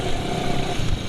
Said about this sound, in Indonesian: Impresi awal suara mesin